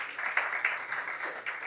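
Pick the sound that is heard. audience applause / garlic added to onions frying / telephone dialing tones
audience applause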